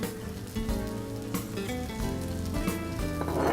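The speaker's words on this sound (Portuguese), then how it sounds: "Esse camarão com a panela quente e ele já temperado, a gente só dá um susto nele" Seasoned shrimp hit a hot pan and sizzle loudly and continuously, a dense crackling fry with bursts of popping throughout and no voices.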